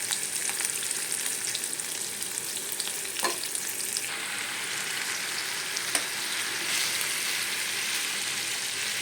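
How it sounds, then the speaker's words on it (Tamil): Chicken frying in a pan with fennel seeds and cumin, a steady close sizzle filling the clip with a few sharp pops and clinks, no voices. "கொஞ்சோண்டு சோம்பு, ஜீரகம் நல்லா வதங்கினதுக்கப்புறம் சிக்கன் எடுத்து போடணும்"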